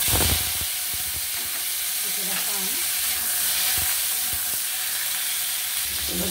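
Mustard seeds, black mustard seeds and two dried red chillies fry in hot oil in a pan, a steady close sizzle and crackle with faint stirring scrapes and small pops throughout.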